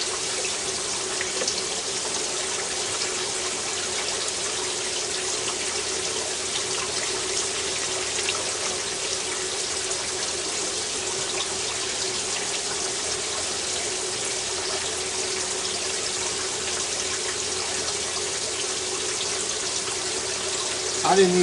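Hot water runs from a tap to add humidity to a quail egg incubator, a steady, close hiss and splash that continues unbroken for the whole stretch, with faint speech in the background.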